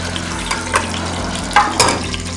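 Ingredients for chicken korma frying in a pan, a steady sizzle close by with a few brief stirring scrapes and clinks on top.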